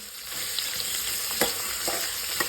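Chopped pulav ingredients are stirred in a frying pan over a gas flame, with steady sizzling and frying under a few soft scrapes of the spoon, close and clear.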